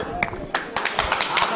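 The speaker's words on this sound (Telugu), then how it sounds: "ఇప్పుడు ఒకసారి చప్పట్లు కొట్టాలి" Audience at a church reception after a Thanksgiving Mass clapping, a short burst of scattered hand claps with sharp individual hits, fairly close and lively, a voice mixed in.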